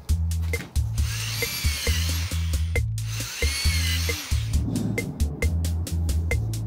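A power drill bores pocket holes into a wooden board through a Kreg jig, in a series of short whining bursts with brief pauses between them, close and loud.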